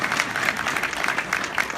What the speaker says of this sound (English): we need to give her a round of applause for this event